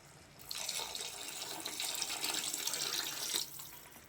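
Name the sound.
water being poured into prawn curry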